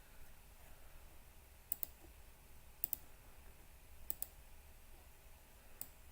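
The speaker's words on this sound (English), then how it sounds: "you can hear my clicking here" Computer mouse clicks during a home cooking-craft live stream, heard as a few sharp double clicks spaced about a second apart over a faint steady background, with no talking.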